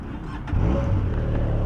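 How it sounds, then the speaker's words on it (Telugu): A Benelli parallel-twin motorcycle idles on its stock exhaust with a close, steady low rumble that steps up slightly in level partway through and then holds even. "ఇది కూడా దీని ఎగ్జాస్ట్ నోటు. ఇది మామూలు ఐడియల్ సౌండ్ అనమాట."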